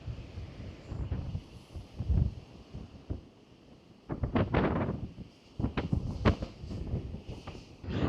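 Rough sea waves surge and crash on the shore at Batticaloa in stormy weather, with heavy wind buffeting the microphone and louder gusting bursts toward the end.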